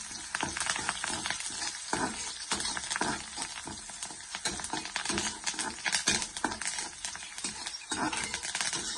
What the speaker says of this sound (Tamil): வெங்காயம் நல்லா வதங்கும் போது கொஞ்சமாக கருவேப்பிலை சேர்த்து நல்லா வதக்கி விட்டுக்கலாம்.